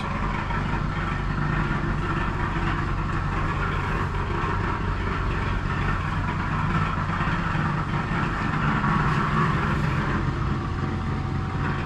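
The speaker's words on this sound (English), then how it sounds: "An engine for pulling the ore carts." Small old engine used for pulling ore carts at an iron works, idling with a steady low rumble and hum that stays constant throughout, no voices.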